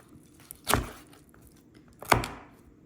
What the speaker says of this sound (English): I'm gonna slice it up further, chopping it up small.